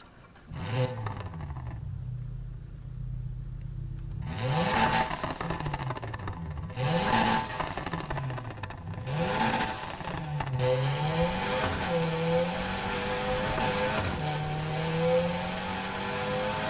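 A modified Volkswagen Golf engine in Need for Speed revs repeatedly, rising and falling through several loud, close throttle blips over a steady idle.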